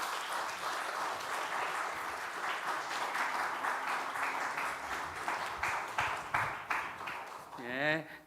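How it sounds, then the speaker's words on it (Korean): Church congregation applauding children who won awards at a competition, a steady wash of clapping through most of the stretch, with a brief tonal ring near the end. "우리 큰 박수 부탁드립니다."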